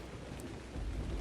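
Rain falls in the ARK Survival Ascended game world, a soft steady wash of drops with a low rumble swelling near the end, faint and without voices.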